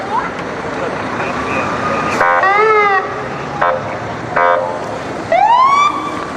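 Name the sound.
Orange Cross Ambulance siren in parade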